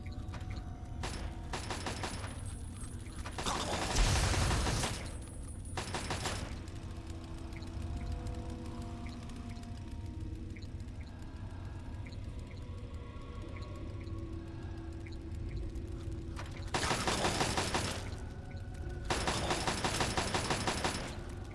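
Gunfire in Fallout 3 comes in a few loud bursts separated by quieter stretches of game ambience, the volleys clustered near the start and again toward the end.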